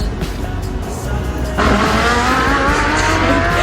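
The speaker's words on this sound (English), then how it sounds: "You really did a drift" A car drifting with its tires squealing, a steady engine roar that swells abruptly partway through as the squeal rises, loud and close throughout.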